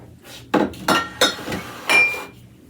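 A metal baking sheet is picked up and set down for macarons, giving four or five bright clanks and clinks at irregular spacing, close and fairly loud with no talk.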